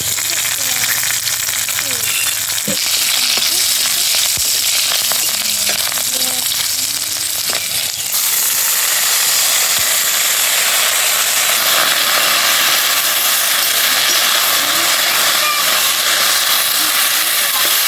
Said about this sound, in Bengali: ফোড়ন দিয়ে দেবো সর্ষে, দিয়ে দেবো থেতো করে রাখা রসুন, কাঁচা লঙ্কা কেটে দিয়েছি।